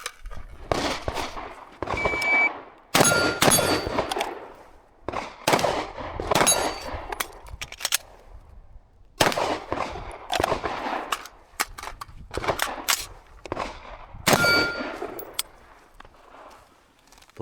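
Sharp gunshots at a shooting drill, with metallic rings from bullets striking a steel gong target about 15 meters away, firing in rapid clusters and bursts with short pauses between strings.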